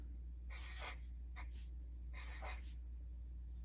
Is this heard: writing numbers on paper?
yes